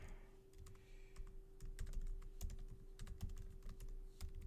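Keys on a computer keyboard clatter in quick, irregular bursts of soft clicks, fairly faint and close, over a steady low electrical hum.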